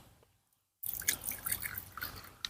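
Dish soap is poured and mixed with water for a homemade garden pest spray: after near silence, close splashing and dripping of liquid starts suddenly and continues irregularly, with no talk.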